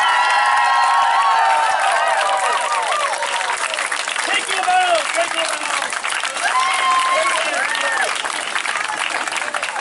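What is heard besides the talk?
thunderous audience applause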